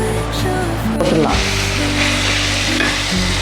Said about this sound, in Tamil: போட்டுட்டு கொஞ்சம் நல்லா வதக்கி விடுங்க